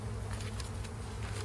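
Honey bees in a spring hive drone in a steady, dense buzz close by, a continuous hum with no pauses.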